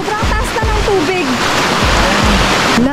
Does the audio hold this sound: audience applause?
no